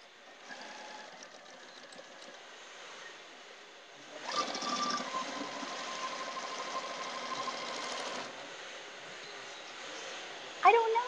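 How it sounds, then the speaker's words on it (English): A sewing machine stitches a quilt block with a steady mechanical hum that becomes louder and busier for several seconds mid-way, then eases back, with a sharp clack near the end. "Now I'll sew it."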